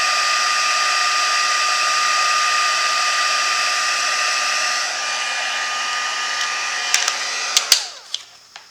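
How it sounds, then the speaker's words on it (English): An embossing heat tool blows hot air in a steady, loud, close whine with a constant tonal hum, then shuts off and winds down, followed by a few light clicks and taps. "Now that this is embossed, I'm going to heat this a little bit to dry the ink."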